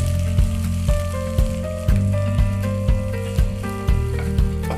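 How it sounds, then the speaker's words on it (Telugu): Red and yellow bell peppers fry in a pan with a loud continuous sizzle, punctuated by regular stirring scrapes about every half second, close up and heard alone without talk. "అవి కూడా వేసేసుకుని మనం అన్ని వెజీస్ని ఫ్రై చేసేసుకుంటున్నాను."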